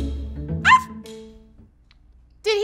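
A person imitates a dog, letting out a short yelping bark and a whimpering cry, then a second quick yip.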